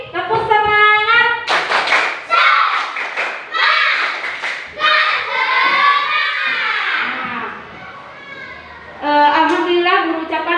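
Children perform a rhythmic clapping chant in an Indonesian classroom, sharp claps mixed with loud group chanting in a steady beat, close and energetic throughout.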